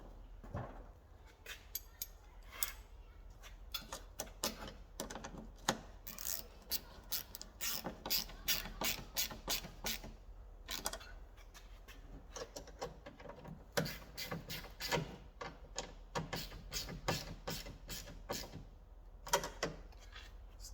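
A ratchet tightening bolts on an Alfa Romeo Giulia, heard close as many bursts of rapid clicking with short pauses between them, fairly quiet, without talking.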